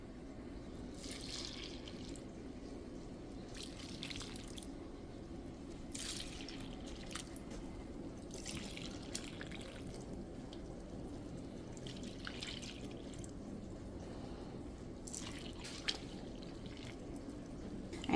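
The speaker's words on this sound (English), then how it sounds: "Now we are going to add the liquid." Liquid poured into protein powder and oats, a faint, close trickle and splashing in irregular bursts over a low steady background, with no talking.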